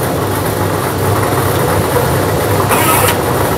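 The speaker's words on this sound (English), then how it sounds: "Let's get into the mixing chambers and get the machine going." A lottery draw machine mixes numbered balls in its chambers for a Play 4 night draw, giving a steady, loud mechanical whir and rumble with a brief brighter rattling burst near the end.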